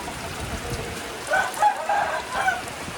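Steady rain patters across a surface, with a few faint bird calls poking through the soft wash of falling water.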